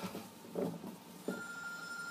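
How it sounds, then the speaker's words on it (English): A telephone rings with a short electronic bell tone, faint and slightly distant, repeating a couple of times in a quiet room with no talk over it. "Oh, phone's ringing, gotta answer that."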